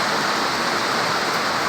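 Heavy rain pours down in a dense, steady hiss that fills the whole stretch with no pause, loud and close.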